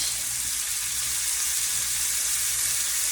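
Sweet onions sizzle gently in bacon fat in a pan on low heat, making a steady, even frying hiss throughout with no other sounds and no talking.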